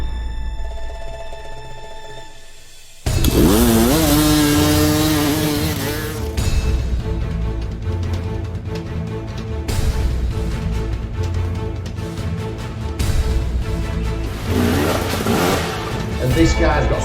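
A KTM 300 two-stroke dirt bike engine revs loudly after a quieter opening, its pitch sweeping sharply up and down in repeated bursts over a steady, buzzing drone.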